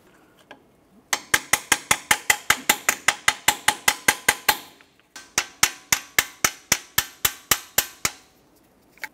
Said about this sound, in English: give it a couple taps back and forth, and then slide it out of place